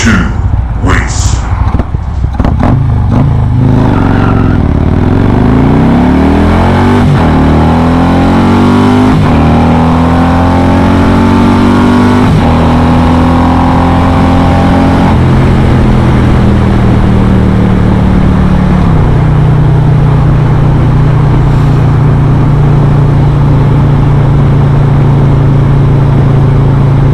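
A 2020 Harley-Davidson Road Glide Special with a Stage 2 114 engine launches hard and accelerates on a cold road, its loud exhaust rising in pitch through several gear shifts before settling into a steady high-speed drone with wind noise.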